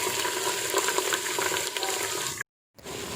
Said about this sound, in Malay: Masukkan minyak masak, kemudian tumiskan bawang putih, bawang Holland, halia dan serai yang telah ditumbuk